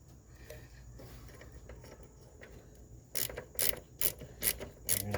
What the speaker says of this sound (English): We're going to tighten that fitting together.